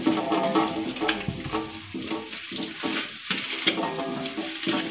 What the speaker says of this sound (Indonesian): Kita tumis dulu ya sahabat Ria.